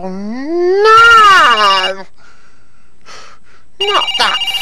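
A children's television phone rings with a loud electronic warble of rising and falling tones, then stops; after a quiet gap it rings again briefly.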